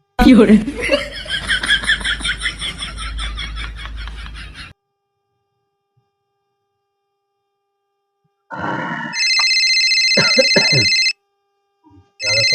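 Electronic phone ringtone chirps through twice in a quiet room after a stretch of laughter and talk, with near silence in between.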